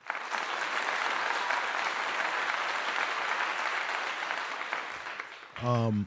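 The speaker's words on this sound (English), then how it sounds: "I want to give you all a clap." Audience applause fills most of the moment, steady and dense, ending abruptly as a voice begins speaking.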